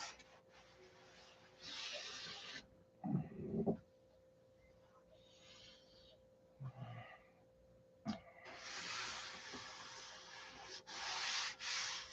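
Hand sanding on wood during a Tucker XL wing repair comes close up as repeated rasping strokes in bursts of a second or two, separated by quiet pauses and a few soft knocks.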